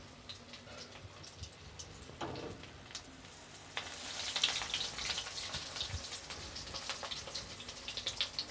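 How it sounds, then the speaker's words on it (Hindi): Cheese balls drop into hot oil and set off a soft crackling sizzle that swells after a few seconds into steady, close frying with scattered pops. "अब हम इसमें अपनी चीज़ बॉल्स डालेंगे।"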